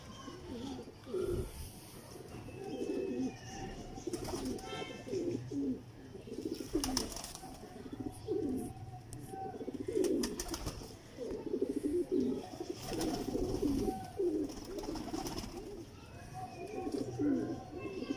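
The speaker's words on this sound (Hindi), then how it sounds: "ओरिजिनल टैडी कबूतर है दोस्तों" Teddy pigeons in a loft give soft, repeated cooing calls in a low, throaty rhythm, moderately close and fairly faint, with occasional wing flutters and someone talking over them.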